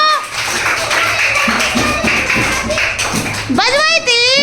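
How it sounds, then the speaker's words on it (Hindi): Young schoolchildren clap together in a classroom during a basic maths lesson, a steady burst of handclaps under a teacher's voice, ending with a child's high-pitched voice or cheer. "ताली बजाओ"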